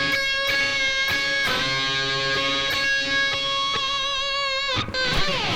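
A solo electric guitar lick with string bends that glide up and partially release, letting notes waver in pitch; several picked attacks ring out clearly and steadily with no talking.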